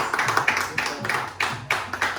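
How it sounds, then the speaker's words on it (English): At a college scholarship award ceremony, the audience claps in a steady, evenly spaced rhythm of sharp, close hand claps. The claps are fairly loud and there is no talking over them. "Let's give him a round of applause"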